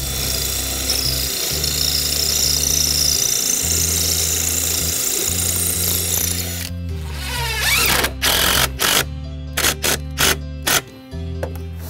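Power drill driving a screw into a wooden deck, a loud steady motor whine in long bursts, then a series of short stuttering pulses and clicks as the screw seats.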